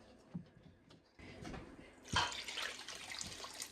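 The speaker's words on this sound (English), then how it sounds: "I think I'm going to add more water." Water pours into a soup pot of leftover cabbage, a soft splash that gets louder and steadier partway through, heard close and fairly quietly without talking.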